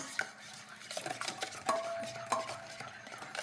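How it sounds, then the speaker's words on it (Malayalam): A banana bread toast mixture being stirred in a bowl, a spoon scraping and lightly clinking in irregular strokes, close but quiet. "ഇതെല്ലാം കൂടി ഒന്ന് ചേർത്തെടുക്കുക."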